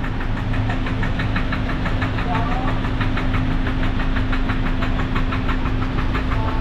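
A Mazda 3 engine runs rough with a heavy, rhythmic knocking chug like a boat motor, idling steadily and loud throughout, with no one speaking.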